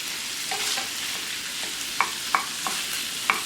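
Food frying in a pan on a raised burner, a steady close sizzle with a few sharp crackles and utensil taps near the end, no talking.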